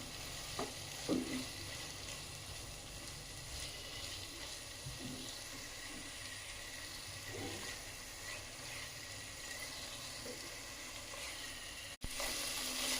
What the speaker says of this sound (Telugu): ఈ అల్లం వెల్లుల్లి పేస్ట్ని పచ్చివాసన పోయే వరకు వేసుకోవాలండి అలానే చుట్టూ ఆయిల్ కూడా బయటకు వచ్చేయాలి